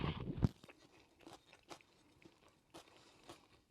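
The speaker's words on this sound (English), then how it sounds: "Some of the cabbage and the carrot still has a crunch to it" Chewing a crunchy keto stir fry of beef, cabbage and carrot, close soft crunches repeating in an irregular rhythm, quiet, after a brief louder clink at the start.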